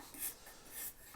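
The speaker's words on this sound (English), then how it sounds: "Now just clean up with the card scraper." A card scraper cleans up a carved lamb's tongue detail in wood, making two quick, faint, hissy scraping strokes close by, with quiet pauses between them and no voices.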